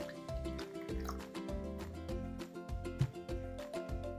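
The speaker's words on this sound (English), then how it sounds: "The first thing we're going to do is pour about 1 inch to 2 inches in our container of water." Water poured into a container, one to two inches deep, for an ice painting activity, heard as a close, irregular run of drips and glugs with a faint musical backing.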